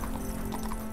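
Horse hooves in the medieval video game 1428: Shadows over Silesia, a brief run of clip-clop hoofbeats over a constant game background hum, heard without talk.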